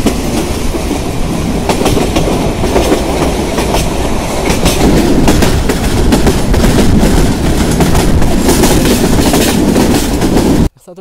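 A train passes close by on a railway line with a loud, continuous rumble and rhythmic clickety-clack of wheels over the rail joints, cutting off abruptly at the end.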